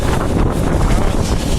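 Sandstorm wind in Majmaah, Saudi Arabia, a continuous loud roar buffeting the microphone, with gusty rumbling and no pause throughout.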